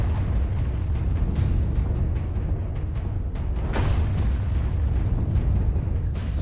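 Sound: cannon firing cannonballs in video game

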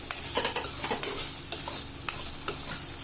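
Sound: sautéing okra in a pan for okra rice

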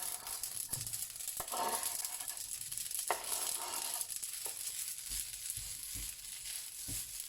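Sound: sausages frying in a pan

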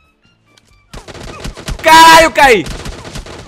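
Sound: gunfire in the video game PUBG

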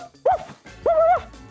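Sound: contestant imitating a dog barking

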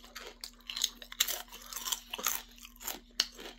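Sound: crunching kettle cooked potato chips

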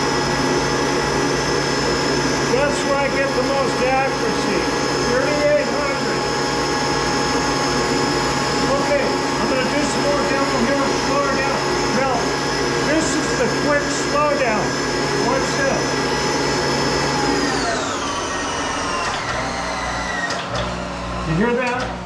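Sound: Monarch 10ee lathe running, dynamic brake engaging

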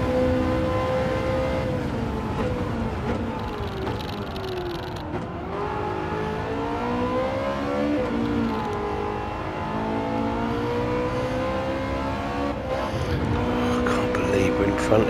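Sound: Ferrari race car engine in Gran Turismo 7 video game

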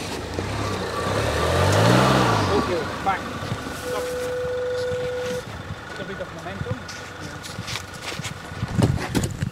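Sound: Land Rover LR2 engine revving up an icy hill

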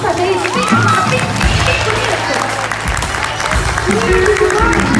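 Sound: audience applauding at children's theatre show

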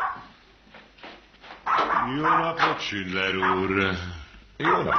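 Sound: dog barking

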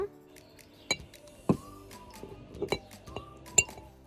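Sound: eggs carefully placed into drinking glasses, clinking

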